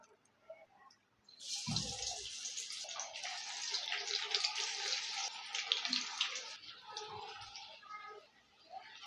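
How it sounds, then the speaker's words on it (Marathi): Steady hissing sizzle of egg bhaji batter frying in hot oil in a kadai, continuous and close, with a brief low thump near the start. "आता आपण भजी तळूया कढईत तेल मस्त तापलेलं आहे"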